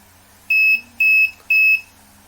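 Ultrasonic parking sensor buzzer on a simulated parking device, sounding three clear, loud, evenly spaced electronic beeps about half a second apart, with no talk.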